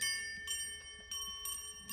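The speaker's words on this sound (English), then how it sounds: "These are copper chimes that are actually tuned, each one to a specific pitch." Tuned copper percussion chimes ring with bright, sustained metallic tones, each tuned to its own pitch, struck several times in loose succession so new strikes layer over lingering resonance, fairly close and alone.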